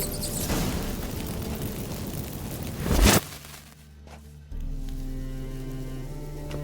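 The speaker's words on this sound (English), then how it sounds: "Get ready for some magic fireworks. Once I activate the incense, we'll have a moment to talk." Magic fireworks set off by incense in The Witcher 3 video game: a steady whooshing bed, then one sharp loud burst, a brief quieter lull, and a low sustained hum.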